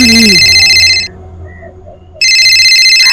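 A telephone rings loudly in two electronic bursts separated by a short pause, with a brief voice at the very start.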